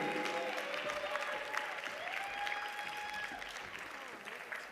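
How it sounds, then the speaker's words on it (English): Audience applause at a Netroots Nation opening keynote, honoring an award recipient, moderately faint and steady, with tonal sounds and a voice-like murmur layered over it. "Please give a round of applause for Mary Rickles"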